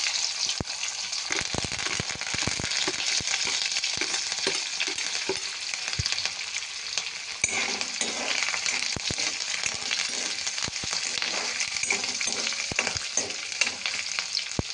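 Curry leaves, green chillies and a little urad dal fry in hot oil for rava upma, hissing loudly with sharp pops and crackles and occasional stirring clinks.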